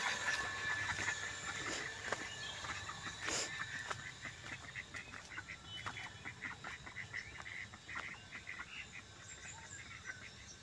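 Ducks quack and honk repeatedly against a busy outdoor background, with calls coming in irregular bursts at moderate distance.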